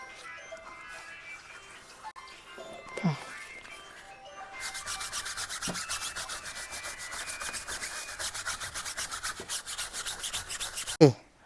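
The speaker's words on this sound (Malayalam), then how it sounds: "വീട്ടിലുണ്ടാക്കിയ ടയർ പോളിഷ് കൊണ്ട് നല്ലൊന്ന് തേച്ചിട്ട് നല്ല ബ്രഷ് ഇട്ടൊന്ന് വൈപ്പ് ചെയ്ത് ഉരച്ചെടുത്തിട്ടുണ്ട്" A brush scrubbing homemade tyre polish onto a car tyre, heard as rapid, even back-and-forth rubbing strokes that start partway through and carry on steadily, with a couple of brief knocks around them.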